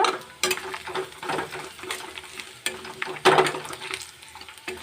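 Turmeric and chili powder stirred into browned onions in a frying pan for an Odia tomato khata: a soft sizzle under repeated, uneven scraping strokes, with one louder scrape near the end.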